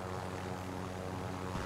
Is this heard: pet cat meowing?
no